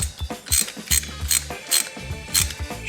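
A hand ratchet loosens the transmission drain plug on a Harley Davidson FXR motorcycle in a run of sharp, close clicking strokes with short pauses between pulls.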